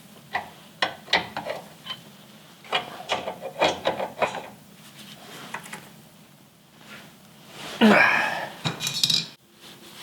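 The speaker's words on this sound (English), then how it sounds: "I don't have one that big, so I'm just going to use a wrench." A wrench working a large bolt on a Jeep TJ tire carrier, heard as a run of metallic clinks and ratcheting scrapes, then a louder grinding rasp near the end, close and without speech.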